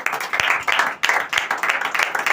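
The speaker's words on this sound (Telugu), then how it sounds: "ఆయన చప్పట్లు కొట్టాలి కూడా." Steady crowd clapping at a religious gathering, a dense run of hand claps with rhythmic bursts, fairly loud and close, with no talk over it.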